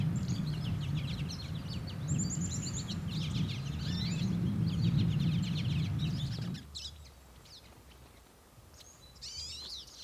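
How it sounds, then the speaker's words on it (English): Birds chirp and call in quick bursts around feeding stations on boardwalks in a snowy Minnesota bog, faint and scattered over a low rumbling background that drops away partway through, leaving quieter calls. "some of the boardwalks have stations for feeding birds, and that pulls them in like crazy."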